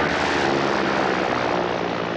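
A propeller airplane engine droning loudly and steadily in flight, a dense continuous roar heard from close by, alone without talk.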